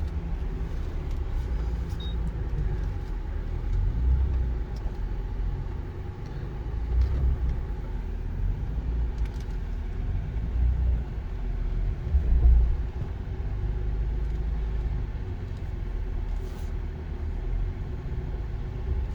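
Nissan Frontier Pro4X pickup truck climbing an off-road slope, a continuous low engine rumble with a steady drone and small surges in load, heard from inside or close by without talk.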